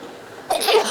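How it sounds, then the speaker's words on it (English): A pet bird downstairs sneezes once, a short, sharp burst set against quiet room tone. "Bird's downstairs sneezing back at me."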